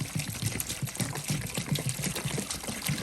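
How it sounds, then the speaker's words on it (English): Water pours into a plastic seed starting tray in a cold garage, filling it a quarter to halfway, with a steady splashing trickle and rhythmic bubbling pulses heard close up and uninterrupted. "I take another seed starting tray. Not sure if you can see that. And I fill it about, I don't know, 1/4 to halfway full of water."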